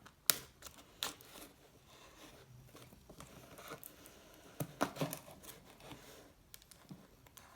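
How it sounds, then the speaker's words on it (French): A cardboard parcel of airsoft accessories is opened by hand, with a sharp rip near the start, a second tear a moment later, then a cluster of crinkling and tearing bursts of packaging midway, close and fairly quiet. "Et on va passer au deuxième colis. Donc celui-là on va l'ouvrir."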